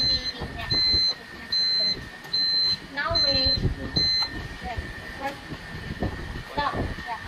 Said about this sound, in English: It's 30 minutes, and the heat oven is alarming.